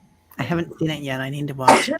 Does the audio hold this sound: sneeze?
yes